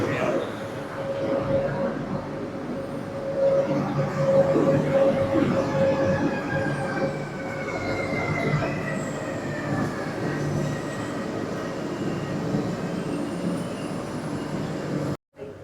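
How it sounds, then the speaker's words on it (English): A train pulls into the last stop of a station in Malaga, its wheels grinding and squealing in long rising and falling whines over a steady rumble, fairly close, with people talking faintly underneath. "Here comes our train."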